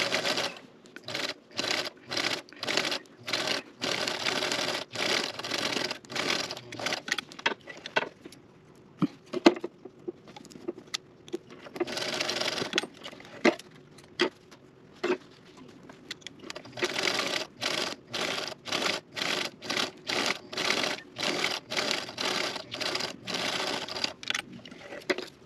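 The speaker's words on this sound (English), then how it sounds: "I'm going to stitch right exactly on the line" A sewing machine stitches fabric for a baby bib, its needle clattering in fast, steady runs broken by brief pauses. It sounds close and clear, with no talking.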